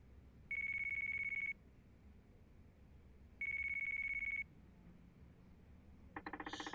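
A phone in the Yakuza 4 Remastered video game rings in two steady one-second electronic tones with a pause between, then a harsher buzzing burst starts at the end, all fairly quiet.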